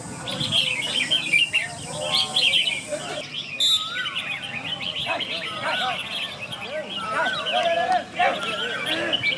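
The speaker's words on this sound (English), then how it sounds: "So these are the birds waiting to get into the contest, and they are practicing." Caged songbirds practice before a bird singing contest in Padang Besar in southern Thailand, filling the air with overlapping chirps, trills and whistled phrases at close to moderate distance while people talk in the background.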